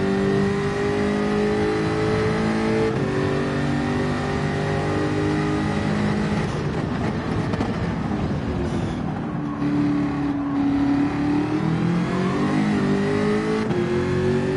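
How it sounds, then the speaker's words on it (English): Engine of a car in Gran Turismo 7 revving steadily and loudly with rising and falling pitch through gear changes, continuous for the whole stretch with no talk. "This car just doesn't sound naturally aspirated."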